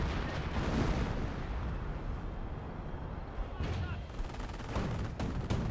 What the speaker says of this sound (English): It should be a pretty close range barrage there.